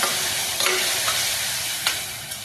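Onion and a chopped tomato with turmeric frying in a pan for kaju masala produce a loud, continuous sizzle, cut by a few quick stirring scrapes; no voices.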